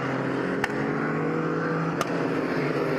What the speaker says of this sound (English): a very nice sounding LMP3 as it revved its way up down pit lane